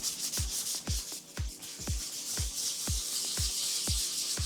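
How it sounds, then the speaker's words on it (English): 100-grit sandpaper rubbing over a metal engine part from a Mk2 Golf, a brisk series of about a dozen close, even scratchy strokes with sharp thumps as each one lands, no voices. "I need to sand this with some, don't know, 100 grit sandpaper maybe, to give something for the paint to stick to."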